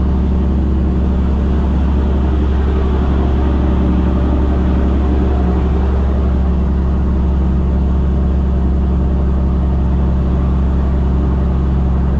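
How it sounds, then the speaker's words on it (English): A Kenworth truck's engine drones loud and steady from inside the cab, a dense low rumble holding near constant through a gear change with little audible shift in pitch. "Once it goes to 1400, we'll give her a massive gear change"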